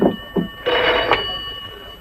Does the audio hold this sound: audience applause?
no